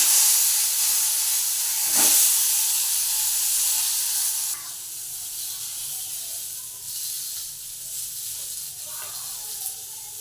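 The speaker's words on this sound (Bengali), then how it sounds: "কড়াইয়ে তেল গরম হয়ে গেছে, আমি বেগুনটি ছেড়ে দিই।" Eggplant dropped into hot oil in a wok gives a loud burst of steamy hissing sizzle that settles after a few seconds into a quieter, steady frying hiss.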